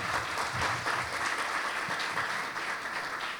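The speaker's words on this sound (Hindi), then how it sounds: "जोरदार तालियां" A church congregation applauds at a worship service, steady dense clapping filling the room at moderate distance, sustained evenly without pause and with no voices over it.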